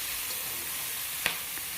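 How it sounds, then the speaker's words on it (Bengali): Fish frying in hot oil in a wok, a soft continuous sizzle with one brief sharp tap or scrape partway through, fairly quiet and without talk. "এখন মাছটা ভালো করে ছড়িয়ে দিচ্ছি যাতে তেলের মধ্যে ভাজাটা ভালো হয়"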